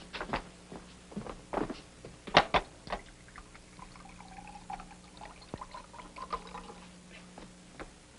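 Water pours into a drinking glass in a quiet indoor room, with several short splashy bursts and trickles, faint clinks and soft footsteps scattered across the moment.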